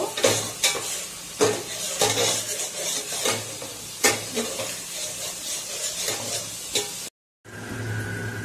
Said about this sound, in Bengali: মশলাটা একটু আমি ভাজা ভাজা করে নেব